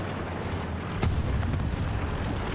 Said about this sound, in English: Gunshot we heard right there appears to have been Dura taking out an enemy